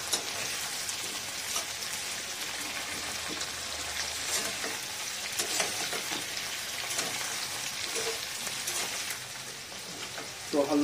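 Vegetables for a winter veg khichdi fry in hot oil until lightly golden, a loud, dense, continuous sizzle with crackling, steady from start to finish and heard alone.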